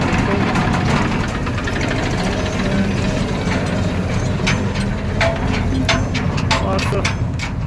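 A tractor engine runs steadily nearby during paddy harvesting work, a continuous rough mechanical drone with a knocking, vibrating texture throughout.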